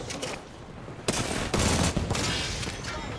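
Rapid volleys of gunfire in Apex Legends, loud and close, with dense bursts of automatic shots and a few sharp separate cracks over roughly three seconds.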